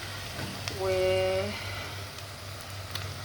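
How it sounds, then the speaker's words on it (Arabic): Onions sizzle in a pan while being stirred, a steady near crackle with a brief swell of louder frying partway through, a faint tone sounding above it. "انا بحب اقلب في البصل علشان كله يبقى مستوي بدرجه واحده"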